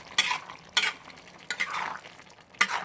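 A spoon stirring mixed vegetable kurma curry with potato and carrot in a pot, four distinct wet scraping strokes at a relaxed pace over a faint bubbling background, close up and without speech.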